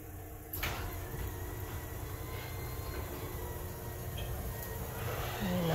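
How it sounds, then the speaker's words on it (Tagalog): A garage door rattles and shakes continuously in a fairly loud metallic clatter, with a sharp bang near the start, as it is jostled to free a dove trapped inside. "Sinishake namin yung pinto."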